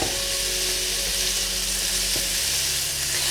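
Steady sizzling of broccoli and cauliflower frying in a pan with a little lemon juice, loud and continuous, with occasional soft scraping from stirring and no voices.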